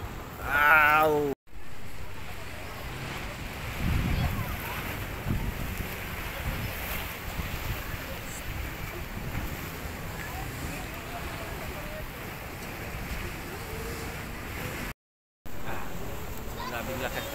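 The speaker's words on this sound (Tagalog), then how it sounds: "Grabing lakas talaga ng alon dito." Strong sea waves along the Dumaguete boulevard waterfront, heard as a steady broadband wash of surf with heavy wind buffeting the microphone, while a voice speaks over it and two brief dropouts cut the sound.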